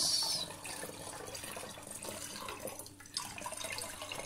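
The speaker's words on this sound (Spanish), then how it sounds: "No, hay que echar un poquito más de agua." Water runs steadily into a container while mixing homemade glass cleaner with alcohol, a continuous close splashing pour with no voices.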